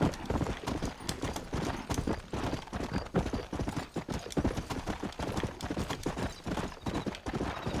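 Horse hooves galloping in the video game Red Dead Redemption, a continuous fast run of clip-clop hoofbeats on the ground, steady and fairly close, with faint game background sound beneath.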